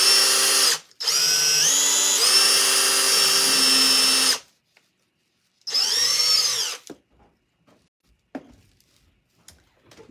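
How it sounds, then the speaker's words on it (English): A power drill whirs up in two long bursts while drilling a pilot hole in wood, pitch rising as it spins, then stops, followed by a few light clicks and taps. "I'm going to drill another pilot hole."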